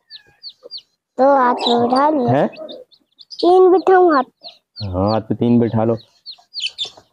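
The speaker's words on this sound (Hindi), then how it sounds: "ये इतने सारे चूजे हैं, हाथ पे बिठाओ।" Baby chicks held in a hand peep and cheep in short, high chirps throughout, close and clear, with adult speech over them for most of the clip.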